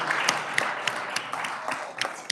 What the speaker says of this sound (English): we're going to do a round of applause for Senator Blasey.